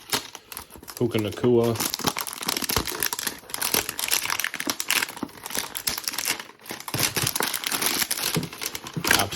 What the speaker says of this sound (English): These boxes are not easy to open.